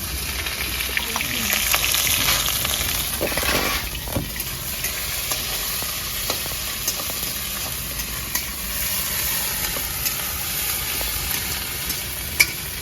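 Whole cumin, dry red chilies, boiled ginger and green chili frying in oil in a pan, a steady loud sizzle with occasional stirring scrapes and small pops throughout.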